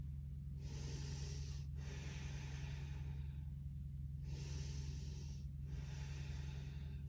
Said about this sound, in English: Slow, deep breath in,